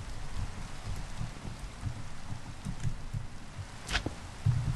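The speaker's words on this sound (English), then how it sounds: "Wait, why is it raining in your place and mine it isn't?" Rain falls in Minecraft as a steady, even hiss with a low background rumble, continuous throughout, with one brief sharper sound near the end and no talking.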